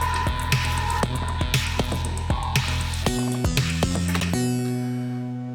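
An electronic music track produced in Ableton plays with a steady thumping beat, low droning bass and buzzing synth tones, shifting into sustained chords with a deeper bass line in the second half.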